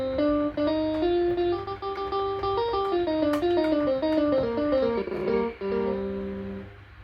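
A lead guitar solo channel of a MIDI karaoke backing track, with slightly distorted, sustained melodic notes gliding through a continuous phrase, played alone and ending on a long held low tone.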